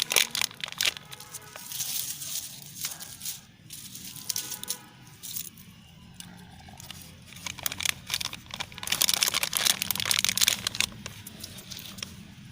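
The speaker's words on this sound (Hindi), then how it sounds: "ये इसे तोड़ लीजिए, देखिए मिट्टी में करके दबा दीजिए इसको।" Irregular crunching and crinkling as a plant cutting is snapped and pressed into soil in a grow bag, with soft scattered crackles that grow busier and louder toward the end, no talking.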